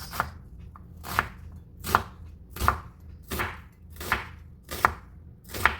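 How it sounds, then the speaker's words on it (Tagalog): Onion sliced with a knife on a cutting board, eight evenly spaced, crisp chopping strokes, close and fairly loud, with no talking. "Slice ko muna to. Yung sibuyas."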